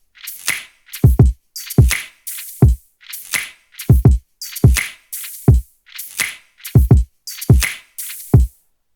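A simple hip hop drum loop plays alone: deep kicks and crisp snare-like hits repeating in a steady, sparse pattern, loud and dry.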